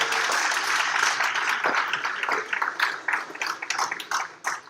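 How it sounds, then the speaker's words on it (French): A live audience gives a thunderous round of applause for the last guest, Jérémy Morel, at an alumni-meets-students evening, with dense, loud clapping that thins out toward the end. "Vous faites un tonnerre d'applaudissements pour Jérémy Morel."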